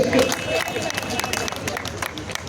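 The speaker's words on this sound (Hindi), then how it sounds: "एक बार जोरदार तालियां आनी चाहिए टीम" Crowd applause at the grand opening of a Tanishq jewellery store in India, brisk sustained clapping with quick individual hand claps and some background crowd chatter.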